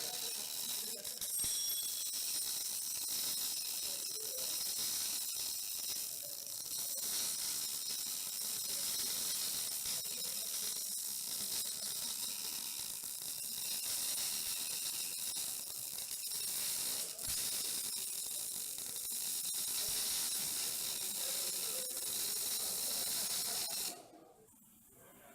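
A MIG welder laying a bead on metal at the correct travel speed, giving a steady, continuous frying crackle that runs for over twenty seconds before cutting off near the end; no talking.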